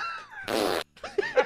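A short, raspy fart-like burst in the middle, framed by brief vocal noises before and after; quick and close.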